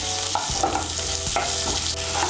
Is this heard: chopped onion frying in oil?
yes